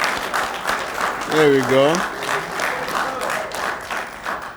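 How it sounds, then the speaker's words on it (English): An audience at a transit agency graduation ceremony claps steadily in a round of applause, with a short spoken remark and a brief vocal sound over the clapping. "Let's give Ms. Angela a round of applause."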